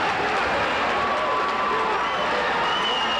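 A loud boxing arena crowd roars steadily in upstate New York for local fighter Tyson, a dense, continuous wall of cheering with commentary over it.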